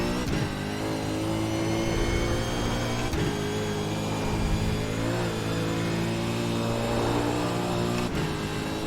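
Supercar engine in a racing game revving hard and steadily, with strong harmonic drone and brief dips at gear shifts around a few points, loud and continuous with no talk.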